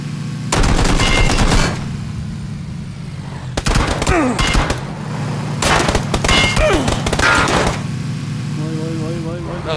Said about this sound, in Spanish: Me está disparando de arriba.